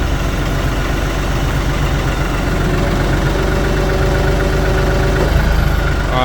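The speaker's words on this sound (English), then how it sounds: "Now I'm gonna close the hydraulic jaws." A Kioti tractor's engine drones steadily and loudly throughout while it powers a hydraulic tree puller closing its jaws on a tree, with no change in tone to pick out the hydraulics.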